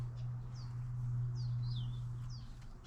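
Small birds at a birdseed feeder give several quick high chirps in short bursts, faint over a steady low hum, with no talking.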